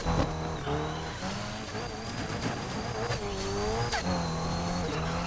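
A race car engine in the game Need for Speed Unbound roars and revs loudly, its exhaust popping and sputtering as the pitch rises and falls.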